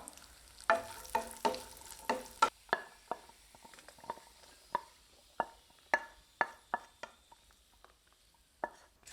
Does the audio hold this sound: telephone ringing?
no